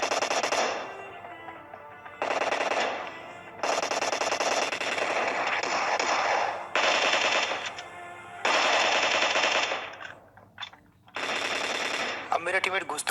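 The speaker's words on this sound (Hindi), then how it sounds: "अब यहाँ पे जो है पीछे से बॉट शॉट्स और बहुत सारे फुटस्टेप आने लग जाते हैं" Computer-controlled bots fire in a battle royale video game: loud bursts of rapid automatic gunfire, close by, repeating in runs of a second or two with short gaps between them.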